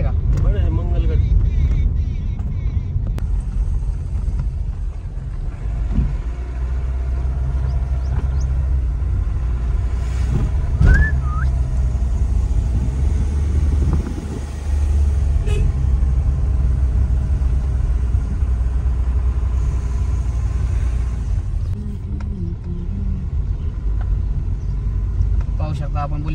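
A car drives along a road near Bhuleshwar Temple with a steady low rumble of engine and tyres, the noise continuous and close, while people talk throughout over it.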